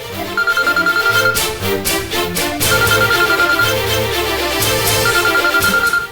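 An incoming call sets off a phone's ringtone, a loud, steady repeating electronic melody of quick bright notes playing continuously for several seconds with no one speaking over it.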